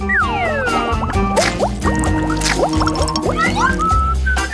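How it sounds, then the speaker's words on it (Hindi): Crab dunked into a pot of hot water, with close, busy bubbling, gurgling and dripping sounds and quick rising liquid blips in a steady flow; no talk. "केकड़े को गर्म पानी में डुबोना होगा।"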